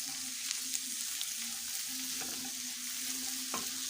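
Hot peppers and bell peppers sauté together in a pan with a constant close sizzle, a low hum beneath and a few faint scrapes or ticks.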